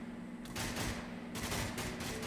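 M60 machine gun fire in a video game comes as two dense bursts of rapid shots, the first longer and the second shorter, over a constant low electronic hum at moderate loudness.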